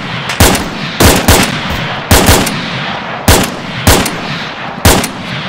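Bursts of automatic gunfire in the Breaking Point game, six short volleys of several rapid shots each spaced about a second apart, loud and close with no talking.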